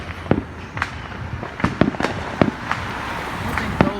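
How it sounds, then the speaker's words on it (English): City fireworks for the Fourth of July burst in the distance, a series of sharp, irregular booms and cracks spaced a fraction of a second apart over a low background hum. "I think those are the main fireworks for the city"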